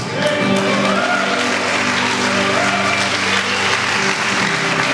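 Steady, loud applause from a church congregation fills the space throughout, a dense continuous wash of many hands clapping with no pauses.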